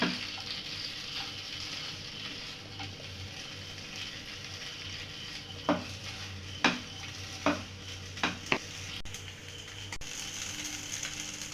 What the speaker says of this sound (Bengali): দিয়ে ভালোভাবে পাস্তার সাথে আমি মাখিয়ে নিচ্ছি